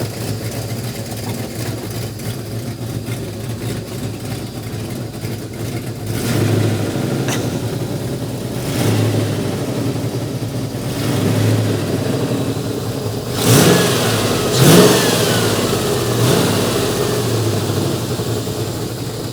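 A Suzuki Samurai fitted with a Land Rover V8 engine idles with a deep, steady rumble, swelling now and then into short throttle blips and revs, loud and close, with no voices.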